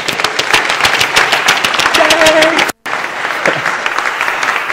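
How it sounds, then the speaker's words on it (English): A church congregation claps loudly in a burst of many hands after a sermon, the dense applause cutting off abruptly, then a softer stretch of scattered clapping continues, with some voices underneath. "Could you please give our three princesses and prince and our 18 camels an appropriate round of applause?"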